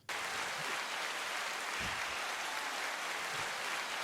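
Applause greeting a fire chief introduced on a podcast: a steady wash of clapping from a group, moderately loud and continuous throughout, with no voices over it.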